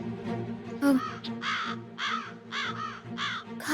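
Crow cawing repeatedly in a series of harsh, loud calls, several distinct caws spaced through the moment with background hum and music underneath.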